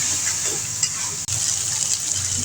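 Cardamom, cinnamon, chopped onion and ground spice paste sizzle in hot oil for a chicken roast, a steady, close hissing with faint stirring.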